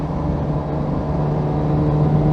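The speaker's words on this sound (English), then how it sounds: "Oh yeah, we are motoring 30 miles an hour." Interior of a Daihatsu Fellow Max car cruising at about 30 mph, with a steady loud engine drone and low rumble that runs continuously without change.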